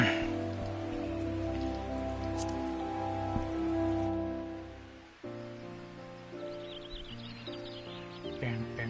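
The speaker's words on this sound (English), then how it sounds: "Oh, it's raining?" Rain falls steadily in a video game, a dense hiss and patter of drops under sustained game music tones that shift partway through.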